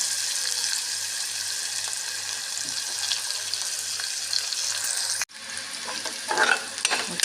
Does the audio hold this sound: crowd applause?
no